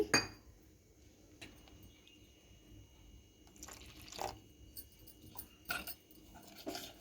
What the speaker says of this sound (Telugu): ఇందులో కొన్ని వాటర్ వేసుకొని కలుపుకోవాలి